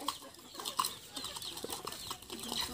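Chickens cluck in short, scattered bursts at moderate distance, mixed with faint outdoor background noise.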